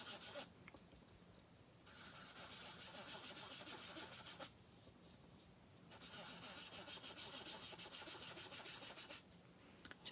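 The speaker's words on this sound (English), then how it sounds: "I will dab it and then rub in a diagonal direction." A Stampin' Sponge is rubbed diagonally across paper with seafoam ink, giving a faint, soft, steady swishing in two long stretches with a brief pause between, close to the listener and without talk.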